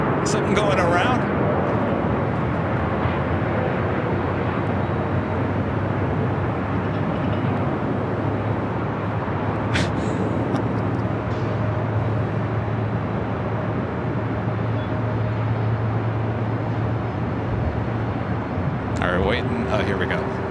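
An F-18 jet flies near LAX, a loud sustained roar filling the whole stretch as people talk over it.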